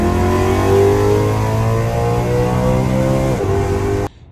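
A BMW M3 engine revs hard toward its redline, a loud, close mechanical wail climbing steadily in pitch for about four seconds before cutting off abruptly.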